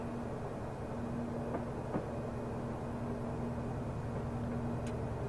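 A British Rail Class 20 locomotive passes in Train Simulator 2017, heard as a steady, even rail rumble with a low hum and a few faint clicks, no voices.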